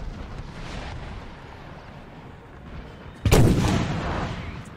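French artillery in Napoleon Total War fires a single booming cannon shot that rings out over quiet battlefield ambience, followed by a fading rumble.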